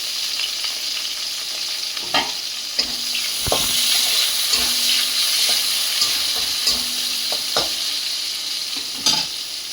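Whole cardamom, cloves, onion, dried chillies and bay leaf fry in hot oil with a continuous close sizzle, broken by irregular clinks and scrapes as the pan is stirred.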